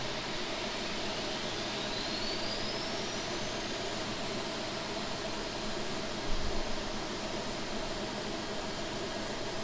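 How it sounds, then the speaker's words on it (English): A jet engine on an Airbus A330 starts in a flight simulator: a steady broadband roar with a faint rising whine sweeping upward, constant and even throughout. "Starting engine 2."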